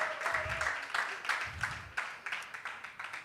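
Faint, thin audience clapping at a summit event, scattered claps in a loose rhythm mixed with voices speaking over them.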